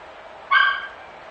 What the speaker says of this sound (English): Oh, you're fine, Pup.